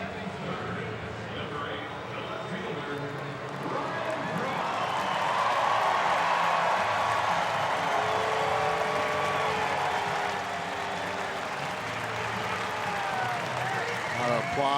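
Baseball stadium crowd at a Cardinals at Brewers game applauding and murmuring, swelling louder midway then easing, with an announcer talking over the broad roar.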